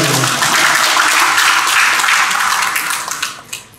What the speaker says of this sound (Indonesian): Tepuk tangan dulu buat Manggarai Barat.